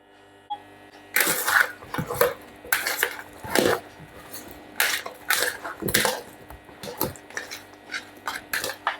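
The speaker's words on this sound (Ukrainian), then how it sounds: "І сюди ж додаю майонез. Гарненько все перемішую." Grilled vegetables and mushrooms being stirred in a bowl with a soy sauce and mayonnaise marinade, a series of wet, squelching mixing strokes and light clinks repeating at an uneven rhythm, close up.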